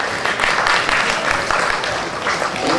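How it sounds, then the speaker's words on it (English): Students at a high school freshman orientation meeting applaud loudly, a thick continuous roar of clapping from a large crowd with some voices mixed in. "Give yourself a round of applause."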